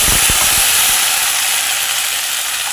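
Mustard and cumin seeds sizzling in a few spoonfuls of hot oil for Kolhapuri misal, a loud steady crackling hiss with a few sharp pops at the start.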